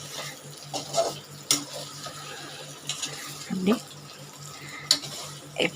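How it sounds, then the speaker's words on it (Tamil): Soya chunks frying in hot oil while being stirred in the pan, a steady bubbling sizzle broken by scraping stir strokes and occasional light clinks, close and moderately loud. "எண்ணெய் நல்லா சூடு எண்ணெயில் போடுதும் இதை நம்ம பரட்டி பரட்டி விடணுங்க"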